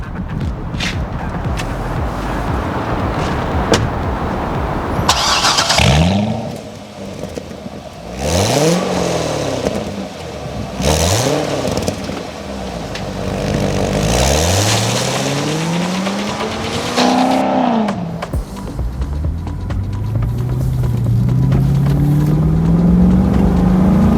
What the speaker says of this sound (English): Let's take the 2010 Chevrolet Corvette Grand Sport that Connell Chevrolet lent me for the day for a spin.